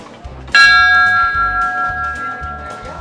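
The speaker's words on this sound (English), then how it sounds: "this bell is actually off a 1924 fire engine that Rapid City Fire Department used to own" A single strike on a bell taken from a 1924 Rapid City Fire Department fire engine rings out loud and close, its bright metallic tone sustaining and slowly decaying over a low background rumble.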